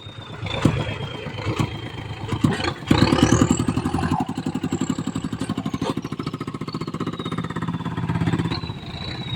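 Chugging engine of a farm tractor, a rapid rhythmic putter that starts up loudly and keeps running steadily up close.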